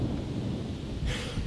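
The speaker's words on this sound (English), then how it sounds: "And thunder cracks." Thunder rumbling on a rainy day, a low continuous rolling boom with a brief brighter crackle near the end, fairly loud and without anyone talking.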